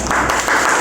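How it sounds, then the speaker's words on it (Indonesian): Classroom applause after a student group presentation, a steady, loud wash of clapping from many hands, dense and continuous throughout with a faint voice mixed in. "Oke, tepuk tangan."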